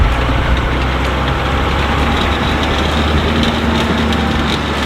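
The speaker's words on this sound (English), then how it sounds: "Sorry, my truck's a bit loud." A Ford Ranger truck engine idles loud and steady close by, a heavy low rumble with a constant throb and a faint knocking texture, holding even throughout with no voices over it.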